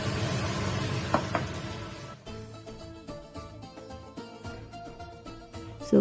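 Onion frying in ghee in a pan, a steady close sizzle with occasional stirring and clinks of utensils against the pan, no voices.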